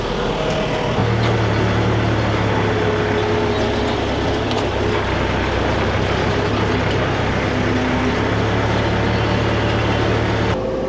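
A JCB Loadall telehandler drives slowly around a farm yard, its engine a steady, loud low drone with a constant hum and a faint rattle throughout, no voices.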